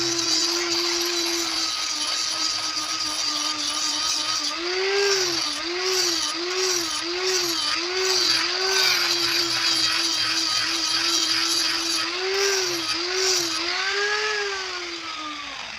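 A blade is ground with a handheld power grinder kept cool with water, giving a continuous high whine that dips and surges rhythmically as the tool is pressed and rocked against the metal, close and steady throughout.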